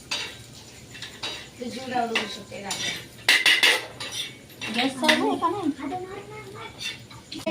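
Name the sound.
roasted masala scraped from pan into plate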